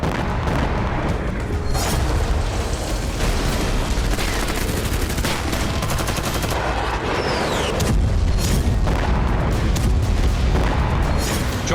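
Heavy bombardment of Hezbollah positions in Lebanon: dense rolling booms and cracking blasts, like artillery and gunfire, pound continuously and loudly through the whole stretch with no pause and no voices.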